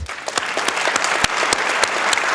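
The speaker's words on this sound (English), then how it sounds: "let's give another huge round of applause to all of the honorees" Applause at a volunteer awards and recognition event, a dense bed of clapping with several sharp, distinct nearby claps standing out on top of the crowd.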